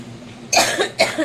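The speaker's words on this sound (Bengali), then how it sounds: "সরি, আমার একটু কাশি হচ্ছে।" Two close, sharp coughs about half a second apart from a person in a home kitchen while pakoras and pithe are being made, with quiet room tone before them.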